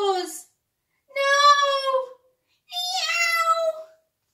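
A cat meows three times, each a drawn-out, tonal call separated by short silences, close and clear with nothing else heard.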